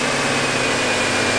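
A 2023 Chevrolet Camaro SS V8 running steadily, producing a loud, close, constant engine hum and rumble with no rises or drops and no voices.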